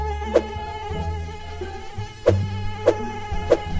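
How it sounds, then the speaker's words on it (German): A mosquito whines close by in a quiet bedroom at night, a steady high buzz that swells and fades as it circles, with a few soft thumps and rustles of bedding. "Oh, diese Mücke!"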